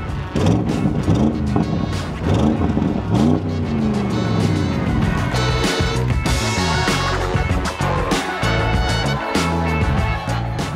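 An Audi RS6 Performance sport estate driving hard, its engine revving up and down through gears in loud, close bursts, with occasional tire noise and a voice briefly underneath.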